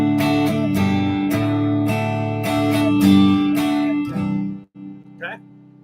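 Acoustic guitar strumming a two-bar rhythm pattern of chords, steady and close, ending with a brief muted stop and a faint scrape.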